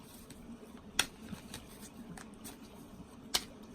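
Tarot cards being shuffled by hand in a quiet room, with soft, faint riffling and a couple of crisp snapping clicks as the deck is cut.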